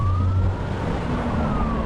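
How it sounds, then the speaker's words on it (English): An ambulance siren passing by on a street in Kenya, a loud continuous wail sliding slowly in pitch over steady traffic rumble, with no one talking. "There's an ambulance passing by."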